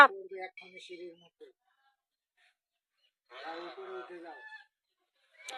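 Geese at a rural resort near Santiniketan chase a person, giving a couple of short honking, clucking call bursts separated by quiet gaps, fairly close and loud.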